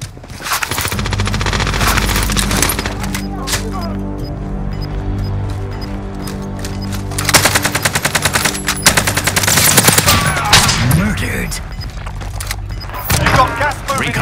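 Enemy automatic gunfire in the Warzone battle royale game on Rebirth Island comes in loud, rapid bursts, then in scattered shots and mechanical clatter, with in-game voices briefly heard.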